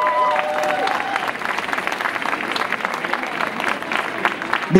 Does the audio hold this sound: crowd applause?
yes